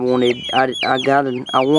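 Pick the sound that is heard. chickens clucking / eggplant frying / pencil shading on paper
chickens clucking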